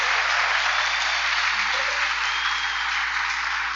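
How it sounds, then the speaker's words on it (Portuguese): A church congregation applauds in a steady, dense wash of clapping that fills the room at even volume throughout, with no voices standing out. "Pode aplaudir."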